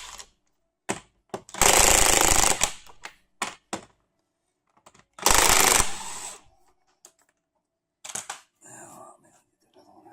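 Bursts of a power socket tool loosening car wheel lug nuts on a Saturn, two long rattling runs plus several short zips and clanks, with someone speaking in between.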